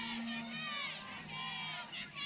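A large crowd murmurs and calls out at a college softball ballpark in Oxford during Alabama vs Ole Miss, a continuous broad roar with scattered voices rising and falling.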